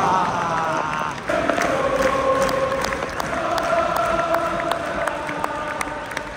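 A stadium crowd at the Liverpool vs Everton derby applauds as Henderson is substituted off, a dense, sustained roar of clapping and cheering with some singing tones, heard close from the stands.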